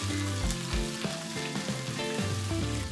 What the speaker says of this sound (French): Dans une sauteuse à feu moyen, 2 à 3 cuillères à soupe d'huile. Mettre l'encorné et les crevettes.